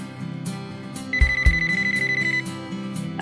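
A VTech CS6649 cordless phone handset rings with a bright, trilling electronic tone in one sustained burst, over a light background music bed.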